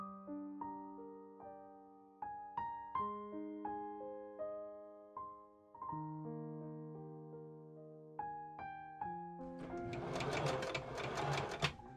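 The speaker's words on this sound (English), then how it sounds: "I pin and machine sew a small bias strip to keep the gathers in place." A sewing machine stitches a small bias strip onto an 1890s Victorian ballgown sleeve, its quiet whirring run arriving near the end beneath soft melodic music.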